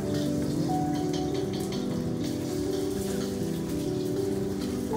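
Rain falls steadily in the city of Malmö, an even, close patter on hard surfaces that holds constant with no voices.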